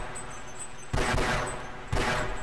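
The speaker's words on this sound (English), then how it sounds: "now it's shooting at me" Enemy gunfire in the video game Half-Life on PS2, with two quick bursts of shots cutting in over a low game background, moderately loud and close, with no speech.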